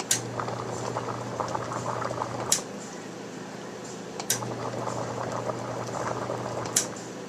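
Liquid boils steadily on an electric heating coil with a soft bubbling hiss, and a low hum cuts in and out as the coil switches on and off, punctuated by a few sharp clicks.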